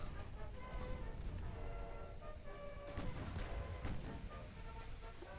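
Naval guns firing in the warship battle game Ultimate Admiral: Dreadnoughts, a steady barrage of booming shots and crashes over constant background music, with a few louder blasts standing out.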